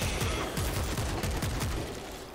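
Rapid automatic gunfire in World War Z, sustained bursts of shots pouring into a zombie horde, loud and continuous with a slight tail-off at the end.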